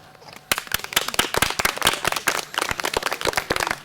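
An outdoor audience at a nature festival performance claps after the show: a burst of dense, crisp clapping starts abruptly and keeps going with uneven, crackling hand claps close by.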